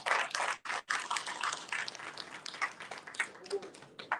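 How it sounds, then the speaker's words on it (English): Audience applause fills a town hall meeting, a dense wash of clapping that swells and dips over about four seconds, with brief gaps and some voices mixed in. "We're going to put our hands together as a call the campaign chairman"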